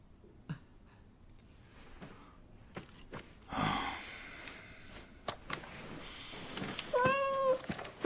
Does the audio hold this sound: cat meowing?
yes